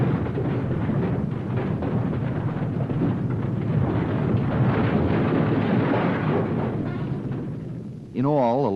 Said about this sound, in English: A landslide started. A great mass of earth pushed downward.